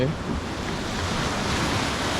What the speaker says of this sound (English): this must be a real area where the waves are constantly going over it